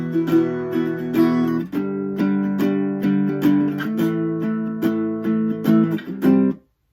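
Acoustic guitar strums a chorus passage from a song in a live looping style, steady rhythmic chords played up close for several bars before stopping abruptly.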